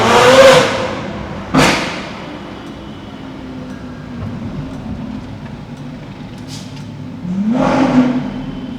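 Loud straight-pipe exhaust blasts from a sports car rev sharply, a few separate roaring bursts with quieter idling rumble between them.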